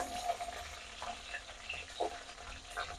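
Curry leaves, fennel and green chillies sizzle in hot coconut oil, a soft, steady crackle with a few brief stirring scrapes.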